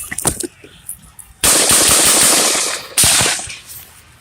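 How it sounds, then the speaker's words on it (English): Gunshots recorded at a Trump rally: a few sharp cracks first, then a long loud rapid volley and another burst, distant and echoing over crowd noise. "followed up by 5 more shots, fired much more rapidly, and then the 9th shot"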